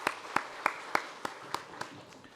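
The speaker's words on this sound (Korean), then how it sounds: "박수 드립니다." Slow, evenly spaced claps, about eight in total, at a Korean church Sunday worship service; each crisp hit stands alone against a quiet room, and the claps thin out and fade toward the end.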